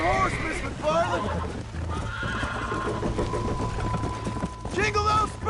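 Horses whinny loudly, several neighs near the start and end, with hoofbeats clopping beneath a voice in the Red Dead Redemption video game's western riding scene.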